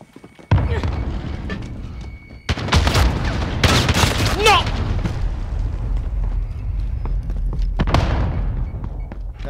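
Grenade explosion in Call of Duty: Modern Warfare, a sudden loud blast followed by a long roaring rumble mixed with scattered gunfire and a further sharp bang near the end.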